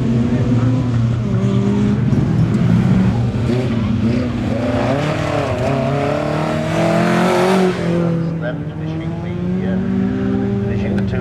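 A little Fiat Tipo prototype rally car is driven hard on a live rally stage at the Race Retro show, its engine droning loud and steady with rising revs. A commentator talks over the car noise throughout.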